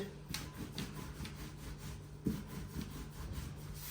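Rhythmic rubbing and rolling strokes of a rolling pin over dough, repeated back and forth at close range with a soft steady hum underneath.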